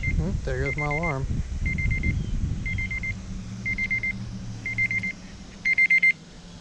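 An alarm goes off during a springtime fishing outing, sounding as repeated short electronic beep bursts at a steady pace that end in a louder quick run of beeps, over outdoor background noise.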